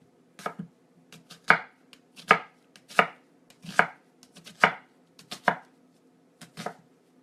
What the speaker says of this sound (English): You want to take it this way and kind of slice it as thin as you can, going from this end to this end.